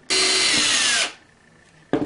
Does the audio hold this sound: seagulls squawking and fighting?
no